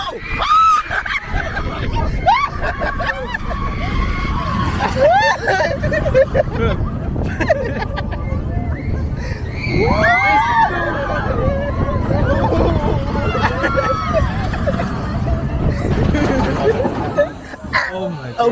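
Riders on a Magic Kingdom ride at Walt Disney World in Orlando scream and shout over a loud, continuous roar of ride noise and crowd babble, with rising and falling cries throughout.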